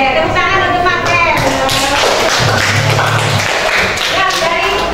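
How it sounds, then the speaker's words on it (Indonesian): Classmates clap for a student in a classroom, busy uneven claps and taps mixed with voices and room noise, loud and close throughout. "Oke, tepuk tangan untuk Marpen"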